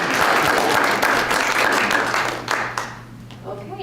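Audience applause fills a press conference room on methamphetamine, dense steady clapping for most of its length before thinning and tapering off toward the end.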